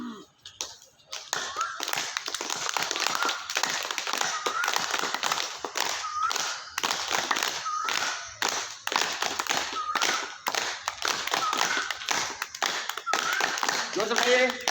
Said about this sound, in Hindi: ताली बजाएंगे, जोर से ताली बजाना एकदम